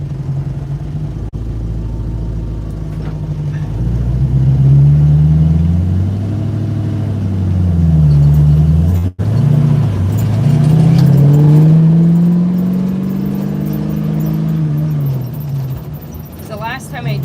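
A 1968 Ford Mustang engine drones and revs up and down through the gears while driving, loud and close inside the car, with a brief dropout midway.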